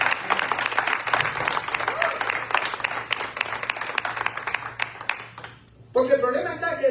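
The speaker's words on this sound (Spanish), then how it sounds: "Entonces dale un aplauso fuerte al Señor." Church congregation at a Sunday service applauds strongly, a steady wash of many clapping hands for several seconds, briefly dipping before voices resume at the end.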